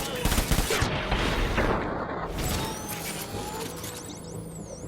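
Gunfire in Death Stranding, rapid bursts of automatic shots crackling close and loud at first, then thinning into a lower mechanical rumble with occasional chirping tones.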